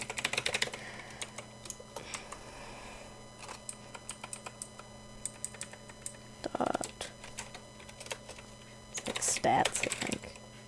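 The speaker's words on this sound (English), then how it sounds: "Because I was about to type my own user ID." Typing on a computer keyboard, bursts of fast light key clicks up close, with a person talking over parts of it.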